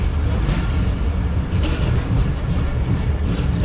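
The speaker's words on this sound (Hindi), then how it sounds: "ट्रेन जो है हमारी वो डिपार्ट कर रही है लांडी जंक्शन रेलवे स्टेशन से" A train pulling out of Landhi Junction railway station in Pakistan, heard from on board as a loud, steady rumble of wheels and carriages with a continuous broadband roar and no speech.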